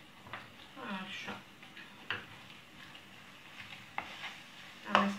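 A rice and meat mixture is stirred in a pan over a gently sizzling low heat, with soft scraping strokes and a few sharp clinks against the pan, fairly quiet and close.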